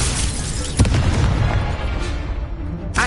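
A booming spell explosion in a Hogwarts video game, a dense noisy blast that swells and lingers for a few seconds, followed by another sharp burst at the end.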